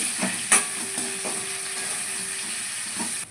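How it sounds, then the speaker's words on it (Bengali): Potatoes frying in oil in a pan give a steady, moderate sizzle and hiss, with a few sharp clinks and scrapes from stirring, close by and with no voices. "আলুটা ভেজে নিচ্ছি।"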